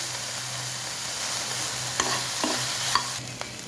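A garlic and mushroom dish is stirred in a pan near the end of cooking, with a soft continuous sizzle and a few sharp spoon scrapes and taps against the pan, close up, with no speech.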